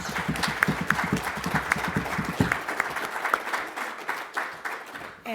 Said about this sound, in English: I just want to thank all three of these guys with a round of applause.